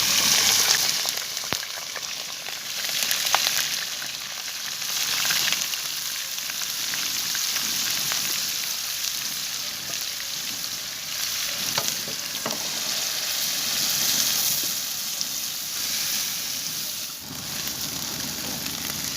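Onions fry in hot ghee in a kadai, a dense, steady sizzle with occasional stirring scrapes, close and continuous throughout.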